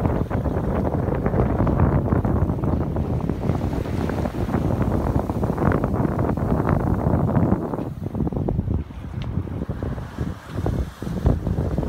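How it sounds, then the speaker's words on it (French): Wind moans through sailboat rigging while sailing across the English Channel, a steady loud rush with gusty buffeting and low rumble underneath, no one speaking. "on entend le vent qui commence un peu à gémir dans la mâture"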